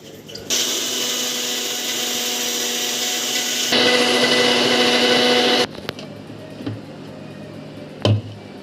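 A mixer grinder blends mango juice with sugar, milk and water, giving a loud, steady motor whine for about five seconds that steps up in pitch midway, then cuts off, leaving a few faint clicks and knocks.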